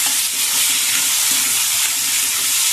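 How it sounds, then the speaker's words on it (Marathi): Tomato stirred into fried potatoes in a hot pan, a loud, steady sizzling hiss of frying with faint scraping of the stirring underneath, close and continuous, no voices. "याला पण आपण चांगला असं मिक्स करून घेऊया"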